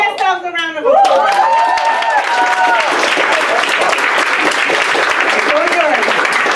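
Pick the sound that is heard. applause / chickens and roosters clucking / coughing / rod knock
applause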